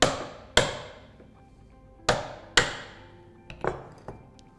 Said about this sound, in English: you just keep working along, chipping it down to the line with what he's putting with the marking gauge